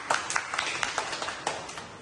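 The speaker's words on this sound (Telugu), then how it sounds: "క్లాప్స్." A classroom of students claps in congratulation for a first-ranked classmate, giving a run of about a dozen sharp, uneven, moderately loud claps over a faint background hiss.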